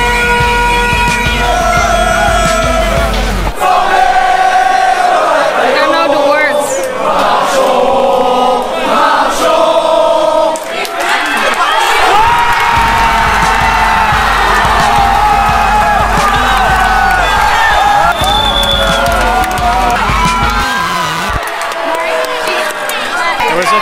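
A large crowd in the streets of Paris on World Cup day cheers, whoops and shouts loudly and continuously, with bursts of yelling voices throughout.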